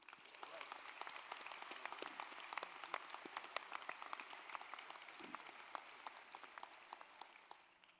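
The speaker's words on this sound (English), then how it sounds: "Let's give a round of applause to celebrate Professor Healy." Audience at a university Latin honors ceremony applauding a professor, a sustained crackle of many individual claps, fairly faint and distant, steady from start to finish before tapering slightly at the end.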